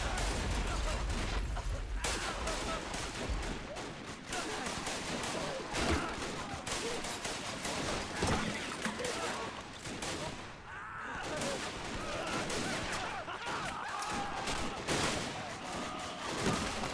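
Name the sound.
rifle and machine gun fire in a WW1 battle video game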